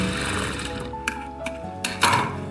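A sewing machine stitching a blouse sleeve produces a short burst of mechanical whirring with small ticks and clinks, close and moderately loud, with no voices.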